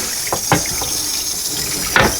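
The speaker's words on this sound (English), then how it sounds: "We're going to take this big pan, 3 inches deep, fill it with water, and boil it." Tap water runs steadily into a big pan three inches deep in a kitchen, with a few soft clinks and knocks over the hiss of the stream.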